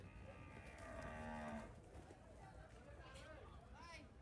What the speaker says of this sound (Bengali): গরু আসতেছে এক জোড়া।